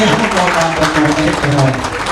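Audience applause at an education training workshop, a dense steady wash of clapping lasting the whole stretch, with some voices mixed underneath.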